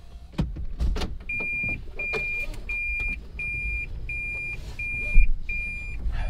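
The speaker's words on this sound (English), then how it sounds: "we are gonna go on a quick test drive before we put everything back together" Third-generation Toyota Prius starting a test drive after spark plug and EGR service: seven evenly spaced electronic beeps chime over low cabin rumble, with a few thumps and clicks at the start.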